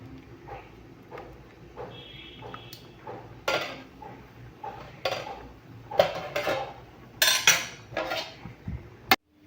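Cleaned rice for biryani being stirred in a pot, with scattered metallic clinks and scrapes of a utensil against the pot, some louder knocks near the end; no talking.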